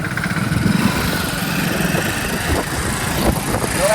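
Motorbikes ridden by a group of friends along a road near Tetoda, a steady, fairly loud engine drone with rumbling mid tones running throughout, no voices over it.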